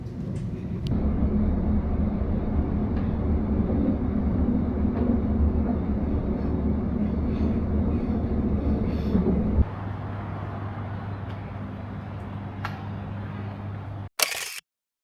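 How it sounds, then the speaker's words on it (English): Steady low rumble and rattle of a train carriage running along rails, heard from inside the quiet carriage; the noise drops to a smoother hum partway through before a sharp clunk at the end. "I'm also in the quiet carriage on the train"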